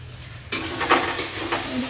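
Spices for a country chicken curry are stirred and fried in a pan, with a sudden loud sizzle after a quiet start and spoon scrapes rising over the steady frying hiss, close by.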